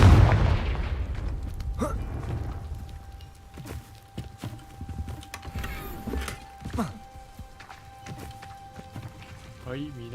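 Confringo blasting spell in Hogwarts Legacy, a few thudding booms and sharp impacts spaced through a quieter game soundscape with a steady hum, moderately loud, with some faint voice or breathing underneath.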